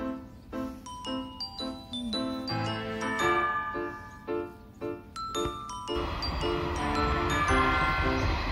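Ding-dong warning bells of a railway level crossing in rural Japan, a steady ringing pattern that thickens into a denser metallic jangle and rumble as a train passes near.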